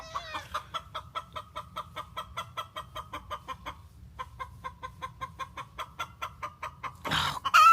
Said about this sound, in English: I don't like the noises chickens make.